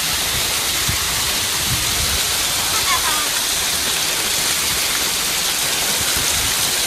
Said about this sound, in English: it's heavy rain here in Singapore